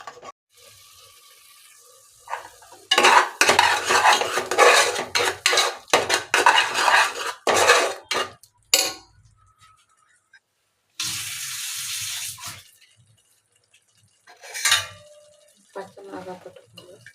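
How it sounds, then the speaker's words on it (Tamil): Onions are stirred in a pan while cooking kuska rice. Loud bursts of hissing and scraping come in separate spells with near-silent gaps between them, close and harsh. "இந்த வெங்காயத்தை போட்டு நல்லா கிண்டி விடணும்"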